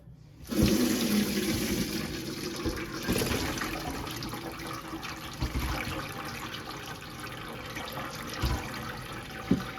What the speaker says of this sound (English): then I'm gonna pour it off into a strainer